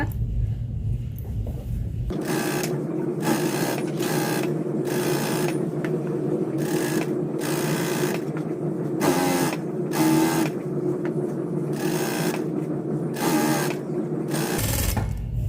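A sewing machine stitches a saree fall in repeated bursts of rapid, steady needle chatter with short pauses between runs, close and fairly quiet with no talking.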